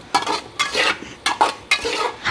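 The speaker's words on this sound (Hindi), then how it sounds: "अब हम इसे अच्छी तरीके से मिक्स कर लेंगे और आलूओं को थोड़ा भून लेंगे इस तरीके से" Potatoes being stirred and fried in a pot for potato pilau, four close, loud scraping strokes of a spoon against the metal pot in a steady rhythm over a light sizzle.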